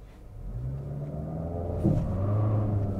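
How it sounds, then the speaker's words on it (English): A 2023 Nissan Altima SR Turbo launches hard from a brake-torqued start, its engine rumbling and rising in pitch as the front tires spin, building steadily louder over three seconds with no talk. "Spinning out the front tires."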